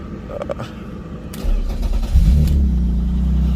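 Engine of a BMW E36 track car cranks and catches, then settles into a loud, steady, deep idle close by, with no talking.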